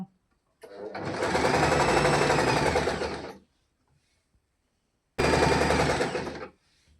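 Sewing machine stitching pant fabric in two steady whirring runs, the first about three seconds long and the second shorter after a silent pause, close and loud.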